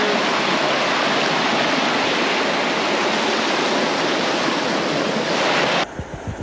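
A river along the Kalalau Trail on Hawaii's Na Pali coast roars with a loud, dense, steady rush of water close by, cutting off abruptly near the end and leaving a few soft knocks.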